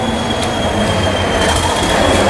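A miniature railway train rolls past near a railway garden, a loud continuous rumble and rattle of wheels on track with a faint high whine running throughout.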